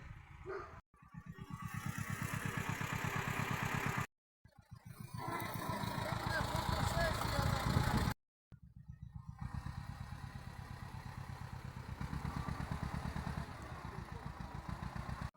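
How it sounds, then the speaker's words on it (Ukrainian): A small tractor engine chugs with a steady rattling rhythm close by as it drives in, cutting out briefly twice before restarting, while a person talks over it. "Ось завозимо тракторець."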